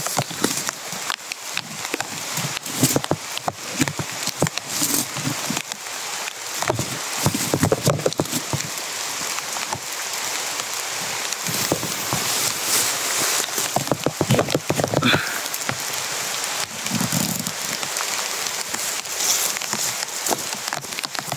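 Heavy rain pours down steadily as a dense, continuous hiss with scattered louder patters and drips on nearby surfaces, lasting throughout without talking.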